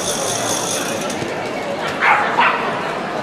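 A Pyrenean Shepherd barks at a large-team agility competition, the 2017 AWC: two short barks near the end, heard over steady crowd noise and nearby talking.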